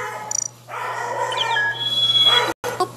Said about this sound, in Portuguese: O pelo latir da minha cachorra.